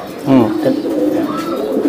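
Racing pigeons of a Belgian bloodline cooing close by in soft, throaty bursts, with a voice speaking faintly underneath.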